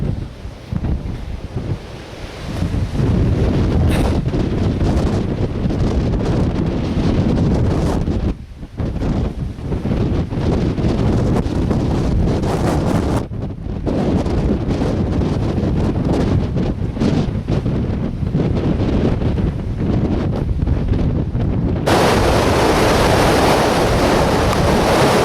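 Strong wind roars and buffets the microphone continuously, a loud rushing noise with gusty surges and brief lulls throughout.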